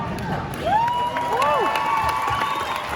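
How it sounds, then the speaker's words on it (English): A Comic Con audience claps and cheers for William Shatner, with whoops and high shouts rising above a steady bed of applause, loud and lively throughout. "What are you applauding, for God's sake?"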